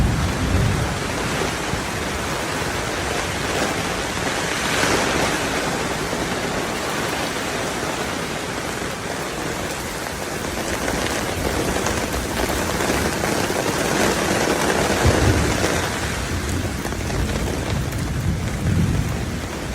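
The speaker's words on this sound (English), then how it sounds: "That was the only 30 seconds in the entire time it was raining." Heavy rain pours steadily and loudly on a surface, with rolling thunder rumbling close overhead during an outdoor storm at a paranormal convention; a dense, continuous wash of noise with swelling low booms and no talk.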